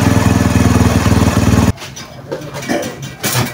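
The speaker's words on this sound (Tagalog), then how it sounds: "umandar ang motor na yan mga bossing" A Bajaj CT 100 motorcycle engine runs with a loud, even putter after its carburetor was cleaned, then cuts off abruptly, leaving faint handling noises.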